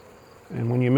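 Honeybees buzz during a colony inspection of stacked hive boxes, a steady low drone that swells suddenly halfway through and stays loud and close.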